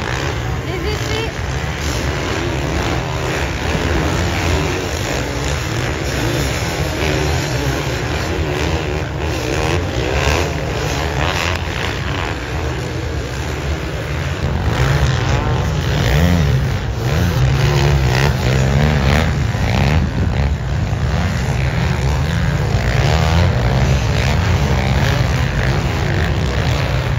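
Two-stroke motocross bike held at full throttle during a beach cross race at Berck-sur-Mer, a steady loud engine drone that swells louder midway, with wind buffeting and occasional voices mixed in.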